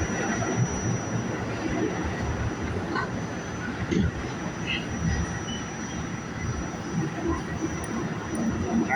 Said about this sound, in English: Got the train already now.